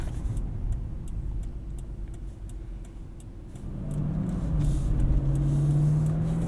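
A 2018 Lexus GX 460 SUV cruising a back road, steady low engine and road rumble heard from inside the cabin, with a faint ticking and the engine note rising toward the end.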